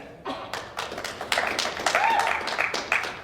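An audience claps and cheers at a secret underground bar set up inside a Boston bakery, with a dense, steady wash of applause that builds over a few seconds, close and loud.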